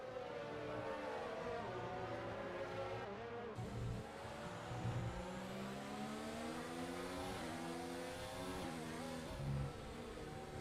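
Race cars in an Abu Dhabi Grand Prix racing video game whine past with rising and falling engine notes, shifting gears and braking into corners, several cars close together in a continuous loud stream.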